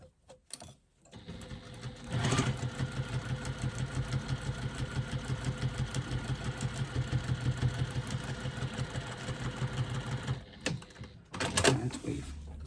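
A domestic sewing machine stitches across the top of a foam-lined fabric wristlet with a steady, rapid mechanical chatter that runs unbroken for about eight seconds, then stops, followed by brief handling noises.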